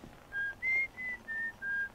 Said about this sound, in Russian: В Луне, кстати, свист.